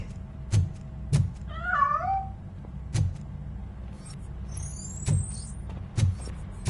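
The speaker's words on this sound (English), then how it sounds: "That cat must be hiding inside." Short cat meows echo near the start inside a building in RoboCop: Rogue City, set against recurring thumps and a low ambient hum, with a brief high electronic sweep later.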